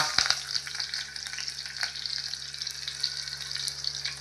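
Curry leaves crackle and sizzle in plenty of hot oil as the base for Nashik-style misal, a close, steady frying hiss with small pops and a low hum underneath.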